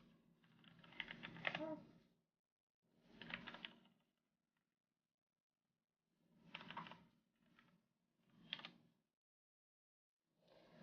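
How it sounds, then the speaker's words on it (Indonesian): Typing on a Ducky Mini 60% mechanical keyboard comes in separate bursts of quick, close key clacks, broken by short silences, quiet and with no voices. "Ataupun kita buat mengetik."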